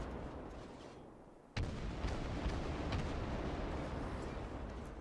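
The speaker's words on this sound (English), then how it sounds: "now I'm just firing from smoke" Battleship main guns fire from within a smoke screen in World of Warships, a heavy booming salvo that kicks in abruptly and leaves a dense, rumbling wash of gunfire and sound that keeps rolling after it.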